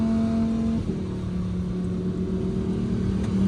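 A Lamborghini Huracan Evo in Corsa mode takes a curve, heard from inside the cabin as a steady engine drone whose pitch shifts slightly partway through, with no talking.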